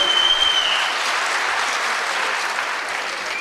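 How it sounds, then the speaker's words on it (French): An audience at the Handi Awards 2013 ceremony applauds in a dense, steady wash of clapping that holds at an even, fairly loud level throughout. "On les applaudit, on applaudit Jolie Fleur."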